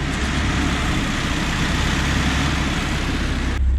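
Nissan 180SX engine idling nearby with a constant deep rumble, its tone shifting slightly near the end, no speech over it.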